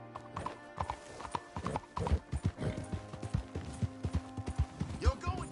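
A horse in the game Red Dead Redemption 2 clip-clops along in a steady rhythmic gallop of hoofbeats, with a brief whinny near the end, moderately close amid ambient game sound.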